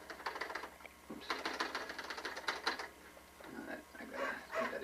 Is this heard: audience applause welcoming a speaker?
no